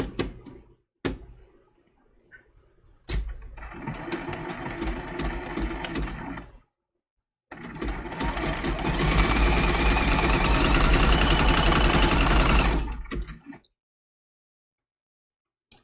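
A sewing machine stitching a zigzag on a small snowman trivet craft project runs in two bursts, a shorter one and then a longer, louder run, each ending in a quiet pause.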